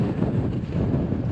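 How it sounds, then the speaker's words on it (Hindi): Strong wind buffets the microphone on the high Umling La mountain pass in Ladakh, a loud, continuous low roar and rumble with no speech. "मौसम काफ़ी ठंडा हो गया है और इतनी तेज़ हवा चल रही है"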